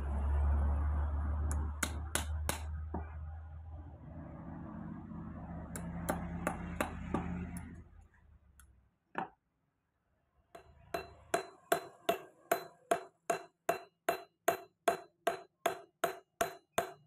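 Nail pins hammered into a machete handle, metallic taps over a low hum at first, then a quiet pause and a run of evenly spaced sharp ringing strikes close by.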